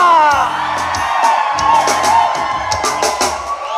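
A concert crowd at a live show shouts and cheers for an encore, a loud dense mass of yells and whoops with rhythmic chanting and scattered bangs throughout.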